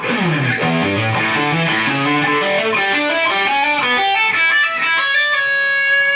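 A distorted electric guitar plays a fast, bending dominant pentatonic lead phrase, continuous and loud, with sustained notes ringing out toward the end.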